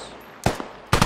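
Machine gun fire in the tactical shooter game SquadOps: two short, sharp bursts about half a second apart, close and loud, with quiet background between them.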